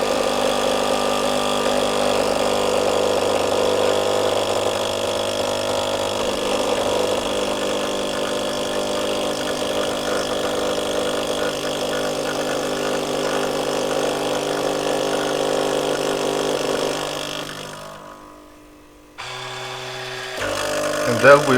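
A Kups EA series coffee machine runs and grinds with a steady, loud mechanical whir and hum, then cuts out briefly before a lower motor sound resumes.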